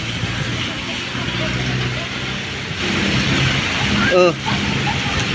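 Heavy typhoon rain and wind roar as a steady broadband rush under a person speaking, with a brief exclamation near the end.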